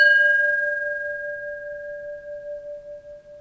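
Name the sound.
personal bell struck with a striker, long resonance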